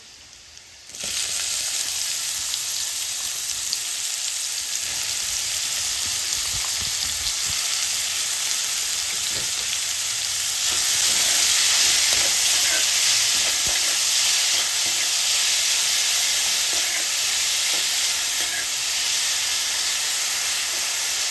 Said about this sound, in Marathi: व्यवस्थित ट्रान्सपरंट होईपर्यंत आपल्याला हा भाजून घ्यायचा कांदा